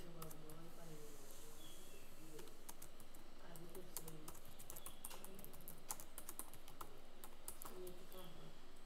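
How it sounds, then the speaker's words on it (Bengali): Typing on a computer keyboard while making a text box in PowerPoint, a scattered run of light key clicks under a faint background hum and a soft voice. "শেপ, টেক্সট বক্স নিলাম, লিখলাম এম আলি,"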